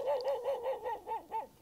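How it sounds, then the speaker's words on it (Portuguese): A dog guarding its territory gives a run of about seven short, evenly spaced barks or yelps, moderately close and fairly quiet, with no talk over them. "Mas o dogo tá ali guardando o território"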